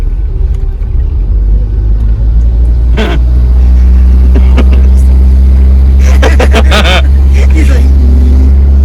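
The engine of a 1983 Cadillac Cimarron driving for the first time in 23 years gives a loud, constant low rumble throughout, while people talk over it with short bursts of voice.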